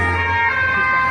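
An ambulance siren wails steadily in a street in Nice, France, loud and sustained over a low engine hum, with no other voices.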